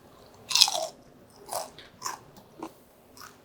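Crisp bites and crunches of fried Korean pepper bugak chips glazed in soy sauce, one loud crunch followed by several softer chewing crunches, close up with no talking.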